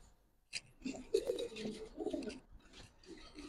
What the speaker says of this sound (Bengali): এই যে এখানে অনেক কবুতর আছে, অনেক।